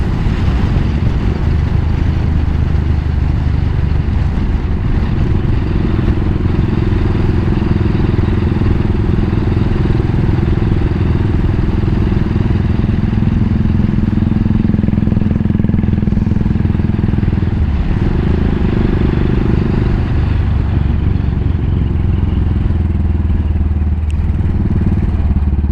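A Royal Enfield Continental GT motorcycle engine under way while riding, a loud, steady low rumble with constant wind and road noise, dipping briefly as if shifting, with no talk over it.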